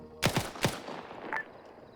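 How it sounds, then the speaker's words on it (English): Several video-game gunshots ring out from a distant village in a zombie campaign, three sharp cracks close together followed by a fainter report, moderately loud with no talk over them. "Shots from the village east of the fucking building."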